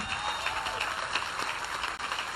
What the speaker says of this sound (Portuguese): seguro aplauso